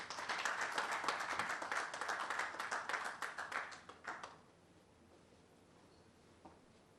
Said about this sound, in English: another round of applause for our Managing Director